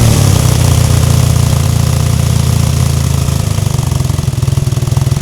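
BMW R1300RS motorcycle fitted with a Jekyll & Hyde exhaust idles close by, a loud, deep, pulsing engine rumble that keeps a steady throb throughout.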